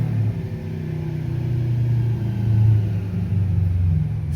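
A turbocharged Subaru Legacy engine runs a boost pull on a dyno, giving a deep, steady, loud rumble that swells slightly in the middle.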